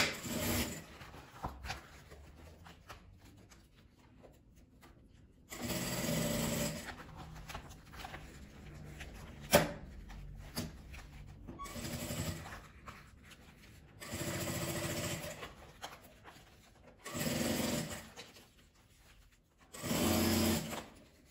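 A sewing machine stitches binding onto a clear plastic crystal-vinyl pouch, running in several separate bursts of a few seconds each with quiet handling and rubbing between them.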